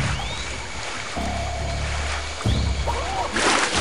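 Water in the video game Jedi Outcast sloshes and rumbles steadily, with low swishing surges, faint watery bubbles and a louder splash near the end, with no talking over it.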